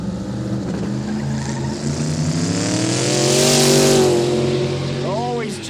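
Turbocharged LS-powered no-prep drag cars launch side by side at a quick street meet, a loud sustained engine roar with rising harmonics building to a peak before a quick rev blip near the end, commentary voices over it.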